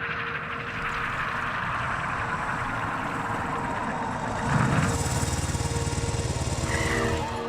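Hagrid's motorbike engine in the Harry Potter and the Sorcerer's Stone video game makes a steady mid-distance rumbling drone that grows louder and choppier near the end as the bike approaches.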